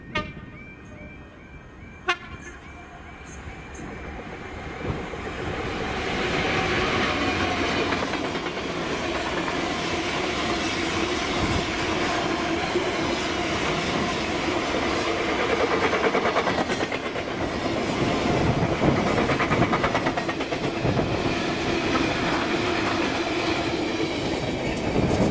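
A DB Cargo Class 66 diesel freight train, locomotive 66090, passes at Irvine, rumbling steadily and close for over twenty seconds with a continuous rolling wheel drone and brief horn-like tones near the start.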